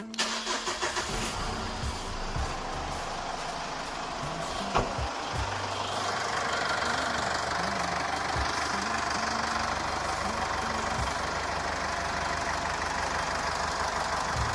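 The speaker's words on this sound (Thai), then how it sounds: "เดี๋ยวลองสตาร์ทฟังเสียงเครื่องดูนะครับ" A Mitsubishi Triton Plus 2.5 diesel pickup engine with automatic transmission cranks and catches, then settles into a steady, even idle with a faint clatter, close up and with no voices.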